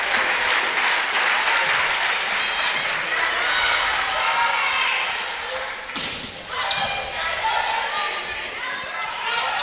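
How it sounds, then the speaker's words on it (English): A student section roars at a women's college volleyball match, the crowd cheering loud and continuous in a gym, with a brief dip before rising again and a commentator talking over it. "the Lewis student section standing up, getting ready to cheer"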